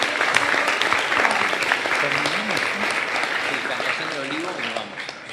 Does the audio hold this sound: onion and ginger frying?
no